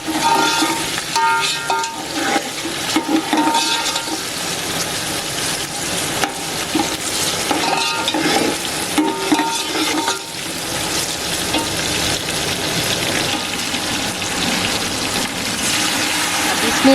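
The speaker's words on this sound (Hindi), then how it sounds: "टमाटरों को नरम होने तक फ्राई करेंगे। इसमें मुसलसल चम्मच चलाते रहेंगे।" Tomatoes fry in a pan for kadhi pakora masala, a dense continuous sizzle with a spoon scraping and stirring through it in irregular strokes, loud and close throughout.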